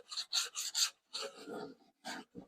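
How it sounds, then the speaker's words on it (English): Rasping, scraping strokes on a routed wood edge, several quick passes in a row followed by slower, rougher sanding, close and fairly quiet. "do a little scraping, a little sanding"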